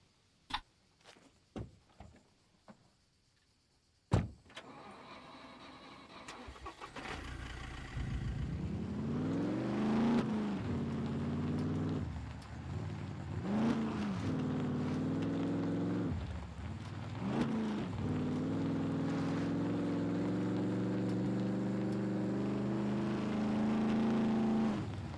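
A car driving in the survival game SCUM, starting with a few sharp clicks before the engine starts, then rising and falling revs as it accelerates and shifts through winding turns, steady and prominent with no talk.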